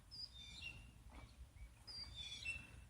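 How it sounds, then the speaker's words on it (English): Small birds tweet outdoors in a winter garden, with a few thin high chirps in short clusters near the start and again toward the end, fairly faint over quiet background. "I can hear them starting to tweet all over the place"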